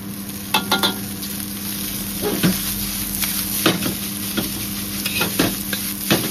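Rice stir-frying in a wok: a steady close-up sizzle broken by repeated scraping clanks of a spatula against the metal. No one speaks.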